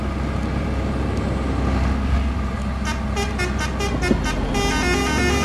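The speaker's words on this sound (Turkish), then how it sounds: "illa korna mı çalalım ya?" Bus horn in the Bus Simulator Ultimate game on the Akşehir to Düzce run. A rapid series of short honks rises over a steady, loud engine and road drone, followed by a longer sustained blast.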